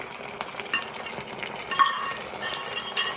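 Fried cauliflower being stirred into chilli gobi gravy in a pan, soft scraping and clinking of a spoon against the pan with faint sizzling, close and quiet, no talk.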